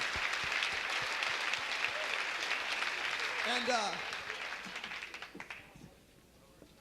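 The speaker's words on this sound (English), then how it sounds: "Big round of applause for that action right there." Applause from the audience at a fashion show, a full crowd clapping steadily before fading out toward the end, with a voice briefly speaking over it as it dies down.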